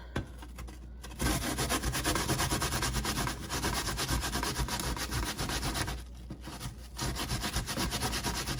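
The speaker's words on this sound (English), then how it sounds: "All right, we're just gonna grate our onion." An onion is rubbed back and forth against a kitchen grater in steady, rasping strokes that continue for several seconds, with two short pauses, close and fairly loud, with no talk over it.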